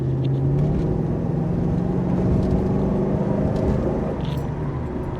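A 1978 Mercedes 450 SLC on the move, its engine a deep steady rumble with gradually climbing tone under road and wind noise, loud and continuous, no talking.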